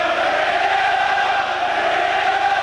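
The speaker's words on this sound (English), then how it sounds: "The crowd reminding Middlesbrough of the score" Football crowd at a Bristol City versus Middlesbrough match, a dense mass of voices chanting together in a steady, loud roar throughout.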